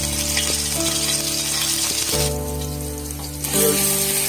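Ginger garlic paste sizzles and fries steadily in three tablespoons of hot oil in a pan, a loud continuous crackle with brief stirring scrapes and a few tonal clinks.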